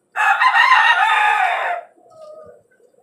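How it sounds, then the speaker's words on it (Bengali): A tiger-breed rooster in a caged chicken farm gives one loud, close crow that lasts under two seconds. A few quieter clucks follow as it fades. "এই হচ্ছে আমার কিছু টাইগার কালেকশন, টাইগার মুরগির কালেকশন"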